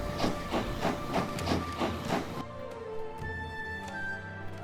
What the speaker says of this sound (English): And yes, there's steam engines, because, you know, steam engines.